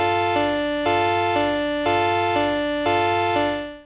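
Audiotool synth with square and sine oscillators an octave apart, playing the same repeating bright, buzzy note pattern in sustained steps, loud and alone, with the final note fading out.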